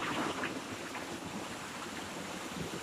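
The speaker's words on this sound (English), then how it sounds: "Here's another pool, another little waterfall." A small jungle waterfall spills into a rocky pool, a soft, even broadband rush of falling water heard from a short distance, constant and unbroken with no voices.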